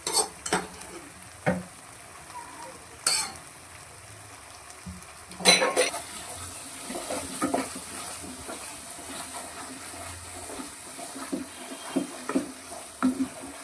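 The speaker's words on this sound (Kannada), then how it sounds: "ಇವಾಗ ಇದಕ್ಕೆ ತುಪ್ಪದಲ್ಲಿ ಹುರ್ಕೊಳ್ಳಿರೋ ಪ್ರಾನ್ಸನ್ನು ಆ್ಯಡ್ ಮಾಡ್ಕೊಳ್ಳೋಣ." Prawns already roasted in ghee are tipped into a pan of Mangalorean-style ghee roast masala and stirred, giving a soft sizzle broken by sharp spoon-on-pan clatters and scraping knocks.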